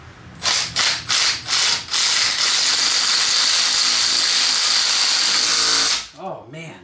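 Ratchet wrench with a swivel socket turning a bolt while installing ported cylinder heads on an engine: four quick bursts of loud clicking, then a long steady ratcheting run, close up, with a voice briefly at the end.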